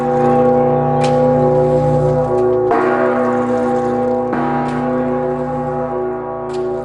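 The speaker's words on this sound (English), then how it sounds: "What we are listening to now is the Bell of Peace." Maria Dolens, the Bell of Peace and the world's largest bell, tolls loudly with a deep, sustained humming tone, struck again twice with long resonant decays blending into each other.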